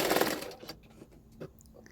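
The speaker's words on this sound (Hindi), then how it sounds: "1/2 इंच मार्जिन रखते हुए और एक सिलाई डाल देना है" A sewing machine stitches a blouse in a short quiet burst at the start, followed by a few faint mechanical clicks.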